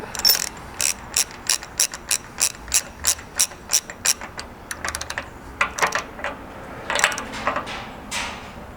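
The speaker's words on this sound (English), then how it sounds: "you'll need an 1 1/8" socket to tighten that up" A hand ratchet with a 1 1/8 inch socket tightens the carrier nut during an Adventure carrier install, giving a steady run of crisp, close clicking strokes in quick rhythmic bursts with short pauses between them.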